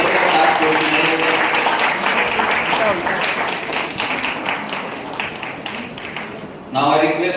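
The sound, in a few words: audience applause at award ceremony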